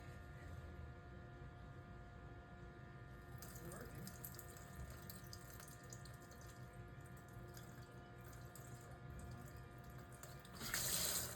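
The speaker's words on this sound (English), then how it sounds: "I'm just going to let it rinse off with some water" Running tap water rinsing crystal violet stain off a glass microscope slide in a veterinary lab, a faint steady trickle and splash that swells briefly at the end.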